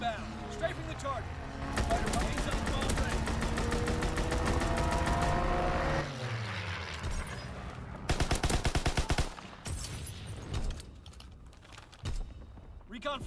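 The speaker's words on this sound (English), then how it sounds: "Fighter pilot inbound. Strafing the target." A fighter plane's strafing run in Call of Duty WW2 tears through with long bursts of rapid machine-gun fire and engine roar, followed by scattered shots and explosions, with radio voices talking over parts of it.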